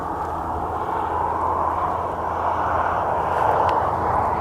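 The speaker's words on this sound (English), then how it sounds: "there's a few private jets coming in and out." A steady low roar of a private jet at Aberdeen Airport fills the air, broad and rumbling, growing slightly louder toward the end without any voices.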